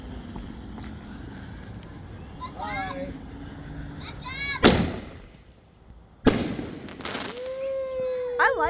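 Fireworks go off outdoors with two sharp loud bangs a couple of seconds apart, while children chatter and call out around them.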